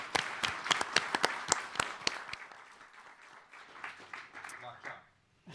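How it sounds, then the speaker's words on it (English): Scattered clapping at a post-election national panel conference, several loud distinct claps up front that thin out and fade into quiet by the end, with some voices underneath. "let's give them a warm round of applause before we get started."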